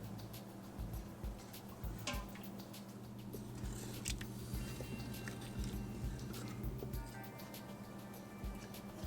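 A spoon stirs chawal kheer, a runny rice pudding with cardamom, in a pot, making soft wet squelching and scraping sounds in irregular strokes over a low steady hum.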